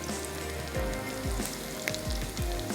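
Patties with chopped cabbage shallow-fry in a little oil, a soft, steady sizzle with light popping, and no one speaking.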